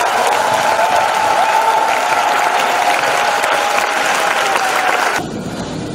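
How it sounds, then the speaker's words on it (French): A church congregation applauds for Jesus Christ in dense, loud, continuous clapping that fills the room, then drops off sharply near the end. "Acclamez pour Jésus-Christ."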